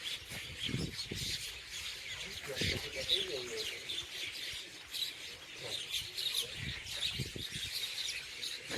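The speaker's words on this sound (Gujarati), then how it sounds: "પક્ષીઓ" Small birds chirp and tweet repeatedly over a steady outdoor hiss, with scattered soft knocks and background noise throughout.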